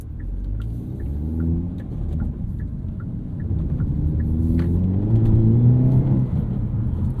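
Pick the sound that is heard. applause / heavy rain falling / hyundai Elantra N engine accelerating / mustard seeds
hyundai Elantra N engine accelerating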